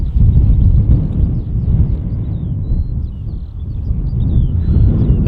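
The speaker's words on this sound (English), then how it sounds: "It's quite windy, as you can see." Strong wind buffets the microphone at Hawarden Airport, making a loud, continuous low rumble with gusty swells that stays close and steady throughout.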